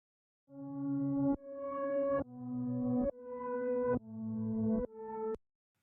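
Six reversed synth notes follow one another, each swelling slowly from silence to a sudden cutoff, forming a steady pulsing sequence of rising tones that ends with a brief click.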